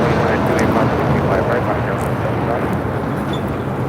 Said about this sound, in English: A321 Neo making that turn on to Alpha